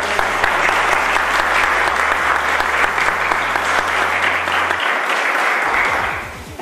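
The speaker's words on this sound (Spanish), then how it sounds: "Un fuerte aplauso." Loud, sustained applause from an audience at a school magazine launch event, steady throughout with a low hum underneath, tapering off just before a voice returns at the end.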